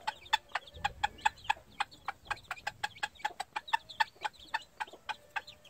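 Gamefowl hen with newly hatched Hatch Grey cross chicks, clucking in a quick, steady run of sharp, close calls, with no voices.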